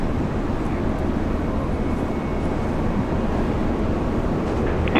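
An Air New Zealand airliner takes off at Brisbane International Airport, a steady broad low roar of jet engines sustained throughout, heard from a distance without speech.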